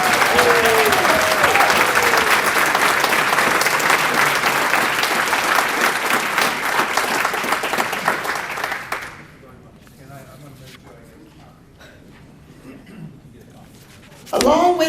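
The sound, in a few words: applause for award winners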